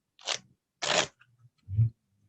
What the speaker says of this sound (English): I'm going to put the cards back in the deck, and I'm going to give them a shuffle